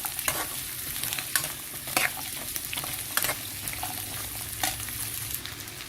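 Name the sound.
garlic frying and being stirred in a pan for pickle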